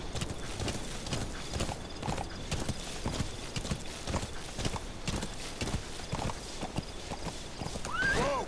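Steady clip-clop of video game horse hooves trotting, close and rhythmic, with a brief whinny near the end.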